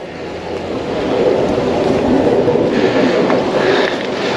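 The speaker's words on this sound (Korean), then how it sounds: "물소리 들리시죠?" A mountain stream beside a rural plot in the hills of Suryun-myeon, Seongju, flows with a steady, broad rush of water. The sound holds even and fairly close, with no talk over it.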